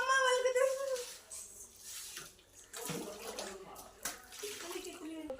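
Water runs from a tap at a swimming pool while feet are washed, a steady close splashing and gushing under people talking throughout.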